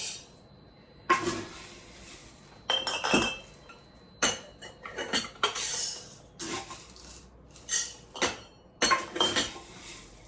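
Dry pasta tipped from a one-cup scoop into glass jars for chicken noodle soup meal-in-a-jar prep, giving repeated bursts of clinking and rattling against glass, close and fairly loud, with quiet pauses between pours.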